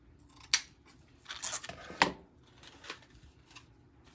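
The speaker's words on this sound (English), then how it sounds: "I'm going to cut that" Scissors snip through material for a flocked Christmas reindeer grapevine wreath: a few sharp, close cuts spaced irregularly, the loudest near the middle, with no talking.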